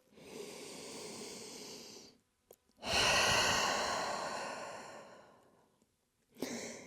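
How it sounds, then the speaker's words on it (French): A deep, slow breath is drawn and released during a hip-and-adductor stretching exercise: two long, airy exhales separated by a brief pause, close and soft, with no talking. "on prend une dernière grande respiration dans cette position"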